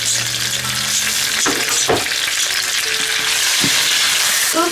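Jalapeno and tomato fry loudly in a pan, giving a dense, steady sizzle broken by a few sharp clinks and scrapes of stirring, with no one talking.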